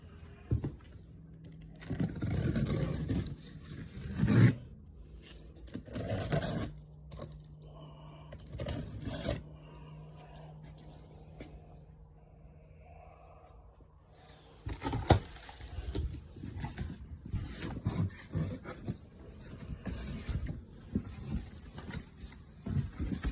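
Cardboard box holding CNC router parts being opened, with bursts of scraping, tearing and rustling packaging, a quieter stretch in the middle, then renewed handling noise.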